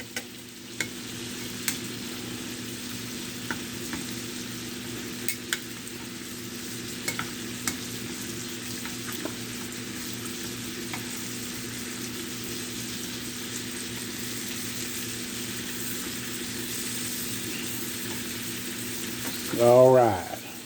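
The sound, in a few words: blackened shrimp frying in a pan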